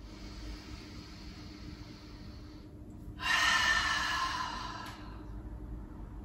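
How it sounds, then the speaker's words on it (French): Slow breathing during a morning yoga detox routine: a soft inhale through the nose, then a louder, breathy exhale out through the mouth, close and alone over low room noise. "inspirez par le nez. Expirez par la bouche."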